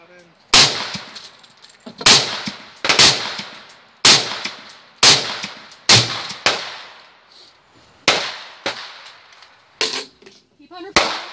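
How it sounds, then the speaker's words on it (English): Gunshots fired at a distant target outdoors: about a dozen loud, sharp reports at irregular intervals, each with a ringing echoing tail. "Shoot at the target at the top, way down there."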